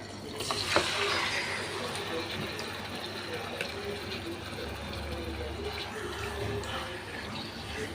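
Water is poured into Guntur-style chicken masala in a hot pan, a splashy pour near the start that settles into steady bubbling and a soft liquid hiss.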